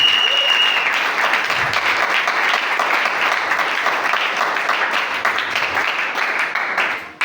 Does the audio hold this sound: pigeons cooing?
no